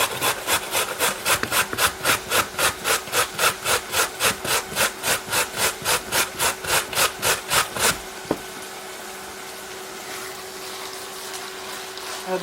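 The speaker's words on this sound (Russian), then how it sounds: "сюда же сразу буду морковку натирать на терке" Carrots rubbed hard against a kitchen grater in a steady, fast back-and-forth rhythm of about twenty rasping strokes, loud and close, then stopping abruptly and leaving quiet room noise.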